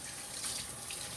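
Cold tap water runs in a steady, hissing stream to rinse fish, fairly close and quiet, with no voices.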